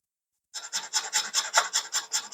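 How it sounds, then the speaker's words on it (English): Microplane grater rasping over whole fresh nutmeg: a steady run of about ten rhythmic scraping strokes, close and crisp, starting after a brief silence with no talking. "And it grates really nicely."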